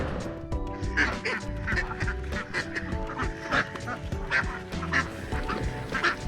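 Ducks quacking in short repeated bursts, fairly close, over a background of music.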